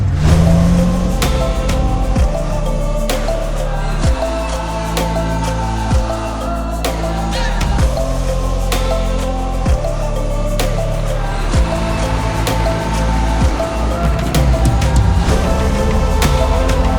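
A car does burnouts, its engine revving hard over and over with loud rising and falling pitch sweeps and sharp bursts, close and intense throughout.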